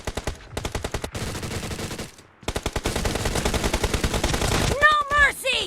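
Skorpion pistol fire in a team deathmatch video game: rapid close bursts of shots with a short pause midway, then a brief voice near the end.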